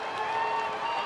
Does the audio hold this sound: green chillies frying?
no